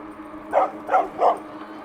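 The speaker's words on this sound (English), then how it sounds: "Boy, that's a rough looking little dog." A small dog barks from behind a fence, three quick sharp yaps about a third of a second apart, fairly close and clear over a low steady background hum.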